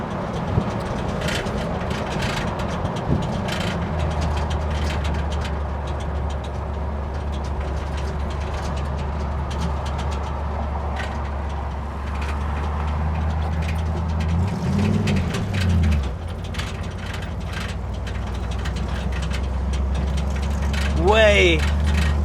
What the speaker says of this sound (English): This thing is noisy, man. It's got noise all over the place. I gotta figure out what's rattling in the back.